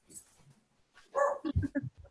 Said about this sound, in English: The fact that the dogs are barking is really bothering me